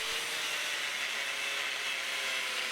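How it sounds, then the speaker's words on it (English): An angle grinder cuts a slot into steel for a forge-welded axe bit, giving a steady high-pitched whine and rasp that stays fairly faint and even throughout, with no talking. "I'm just going to use my angle grinder because hot chiseling it is much more time consuming"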